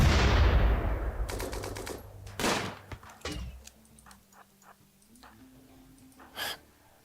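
Sparse gunshots from RimWorld crack in short, separate bursts after a fading rumble, each one sharp but moderate in loudness with quiet gaps between.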